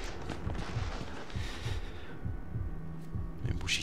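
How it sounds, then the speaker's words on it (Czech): A steady pounding heartbeat in the horror video game Outlast, heard as a repeating low double thump in a regular rhythm over a constant hum, with no talk. "Buší srdce jak..."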